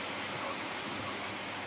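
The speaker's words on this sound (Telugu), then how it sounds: "ఇలా వర్షం పడుతూనే ఉంది." Heavy rain in Vizag, a soft, steady, even hiss of falling water with no breaks, faint and continuous throughout.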